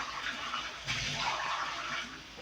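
Water runs steadily with a soft, splashy rush, briefly swelling before easing off slightly near the end, no voices present.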